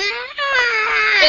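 A human voice imitating a cat's mating yowl: one long, drawn-out, wavering high wail with a brief dip partway through.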